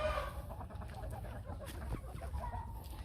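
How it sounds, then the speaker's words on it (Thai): Chickens cluck and murmur steadily over a low background rumble, several birds close by with no talking. "ไก่ออกมาแล้ว"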